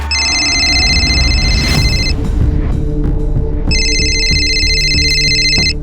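An incoming call rings on a phone in two loud electronic bursts with a pause between them, over a busy background of low noise and clatter.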